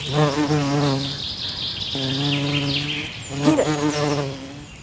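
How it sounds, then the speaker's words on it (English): A bee buzzes close by in three drawn-out bursts, its droning hum rising and falling in pitch as it moves around, loud and with no voices over it. "Yeah, a playful bee."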